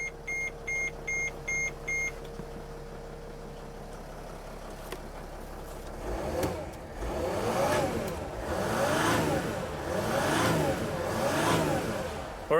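A Freightliner Dodge Sprinter van, repaired after a crank-no-start fault, gives a run of electronic beeps, then cranks and starts, its engine revving up and down in swelling waves before settling, heard close with no talk.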